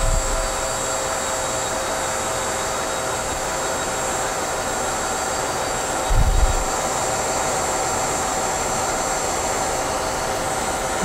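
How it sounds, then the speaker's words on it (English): A craft heat tool blows hot air onto a crafting surface, a loud, steady close-up roar with a faint low thump partway through. "So I'm going to come in with my heat tool."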